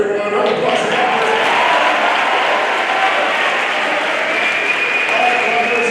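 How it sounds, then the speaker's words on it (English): An audience claps steadily and loudly in a school assembly hall at an MLK Jr. assembly, with a dense, sustained roar of applause throughout. "Round of applause for Robert."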